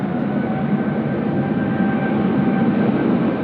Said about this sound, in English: We've got an aircraft on about a 2 mile final, runway 25.